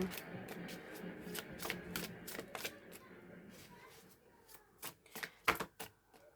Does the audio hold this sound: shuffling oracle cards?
yes